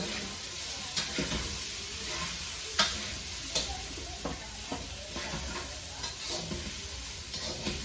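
Spicy mixture stirred in a pan, a steady background hiss with intermittent scraping clicks and soft knocks of the utensil repeating throughout, close and moderately loud with no voices.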